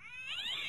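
A cat creature in World of Warcraft Classic lets out a close, loud, rising yowl with bright whining overtones, heard alone for under a second.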